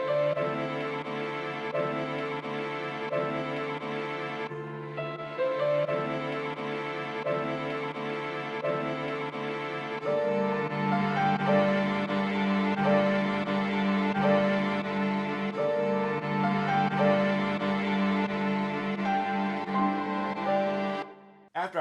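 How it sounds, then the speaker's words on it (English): A smooth hip hop sample loop chopped into 16 pieces at 64 BPM plays on its own, with tonal melodic sections that shift abruptly at a couple of points and a fuller, warmer second half. "this is what the loop sounds like here when it's all chopped up"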